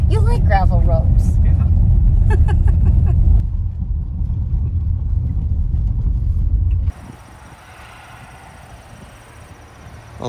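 A car drives along a gravel road on a Great River Road day trip, its steady low rumble and crunching tires continuing under a voice talking near the start, then dropping to a quieter hum.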